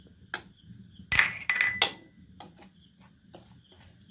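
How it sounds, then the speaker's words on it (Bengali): A metal spoon stirs poppy seeds and rice flour in a bowl, giving a few sharp clinks and scraping taps against the bowl amid quiet background. "চামচের সাথে সাথে মিশিয়ে নিলাম।"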